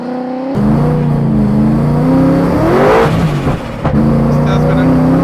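A car launches with wheelspin on damp, mossy tarmac during a land speed record attempt, the engine loud and close as revs rise and fall and the tyres keep spinning.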